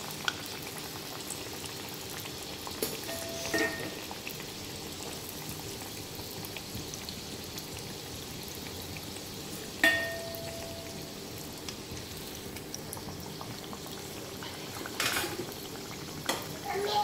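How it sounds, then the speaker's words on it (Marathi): Samosas deep fry in oil over medium heat, giving a steady, soft bubbling sizzle with a few faint clinks now and then, quiet and close. "हे असे समोसे करून घेतलेले आहेत ते असे तळून घेऊया"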